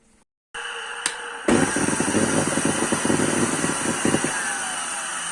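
A Samsung SC4520 vacuum cleaner's motor kicks on after a click and runs loud and steady with a rough, rattling roar, holding a constant drone that eases slightly toward the end.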